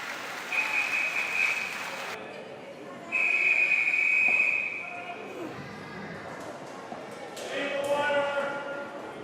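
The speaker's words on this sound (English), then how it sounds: "Let's give some claps." Applause and claps ring out at a youth swim meet, echoing under a loud announcer's voice, with whistle blasts cutting through the noisy pool deck.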